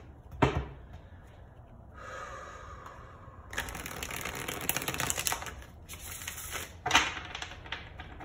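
A tarot deck is shuffled by hand in several quick bursts of riffling and rustling card noise, close and fairly quiet, with short pauses between.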